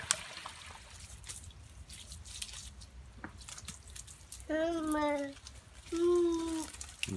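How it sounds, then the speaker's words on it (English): Water trickles and drips steadily while a coconut tree is being watered, a soft continuous dribble with children's voices chiming in over it near the end. "Watering the coconut tree"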